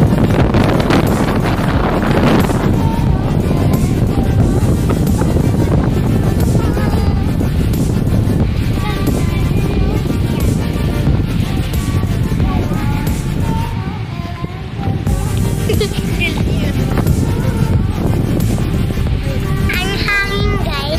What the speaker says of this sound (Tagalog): lakas na hangin